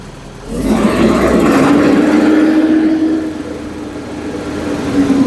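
A 140-horsepower tractor engine runs steadily nearby, a low chugging hum with a rising whine, idling smoothly with no voices.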